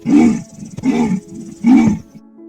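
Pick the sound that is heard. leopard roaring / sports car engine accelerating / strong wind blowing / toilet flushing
leopard roaring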